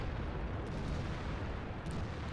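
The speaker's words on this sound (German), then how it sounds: "da wird aber brutal geschossen" Heavy tank gunfire and battle rumble in World of Tanks, a dense, loud, continuous low roar of shots and explosions with no talk.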